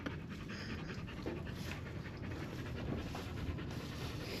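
A dog pants steadily and close by, quick breathy rhythm continuing throughout at moderate loudness in an indoor setting near a furnace, with no talking.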